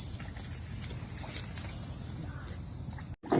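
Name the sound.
cricket chirping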